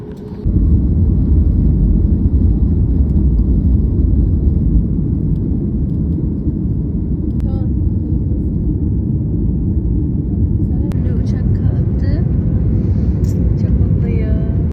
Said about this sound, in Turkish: Şimdi uçağa bindik ve birazdan uçak kalkacak.